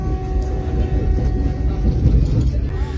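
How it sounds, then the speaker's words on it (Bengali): A departing passenger train rumbles along, low and steady, heard from onboard at moderate loudness, with faint background voices and no distinct horn. "ট্রেন ছেড়ে দিল একদম 6টা 10-এ।"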